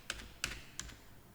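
Three quiet keystrokes on a computer keyboard while Java code is typed for a Selenium test, spaced about a third of a second apart and followed by near silence.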